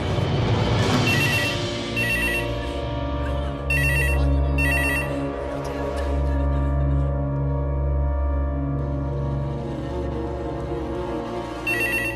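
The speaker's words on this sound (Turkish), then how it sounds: "Telefon çalıyor." A telephone rings in repeated bursts of electronic bell tones, loud and close, with steady droning sound underneath and no talking.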